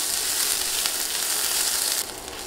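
Sliced onions fry in a pan in a loud, dense sizzle, with soft stirring scrapes. The sizzle steadies, then eases slightly near the end.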